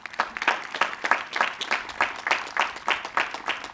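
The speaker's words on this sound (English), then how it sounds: "Clap your hands if you are happy to be here today celebrating these" Graduation ceremony audience clapping in a steady rhythmic pattern, about three claps per second, moderately loud with no talk over it.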